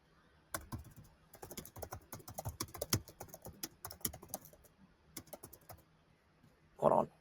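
Fast, uneven clatter of keys on a computer keyboard, close and clear, in bursts with short pauses, ending in a louder thump.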